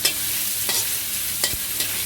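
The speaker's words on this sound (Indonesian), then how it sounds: "Kemudian kita goreng sosisnya." Sausages fry in hot oil in a pan for fried rice, giving a steady bright sizzle with a few sharp stirring scrapes and clacks, close and loud, with no talk.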